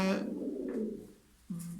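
Pigeons cooing close by, a couple of low, throaty coos with a short pause between them, set against a faint background and no talking.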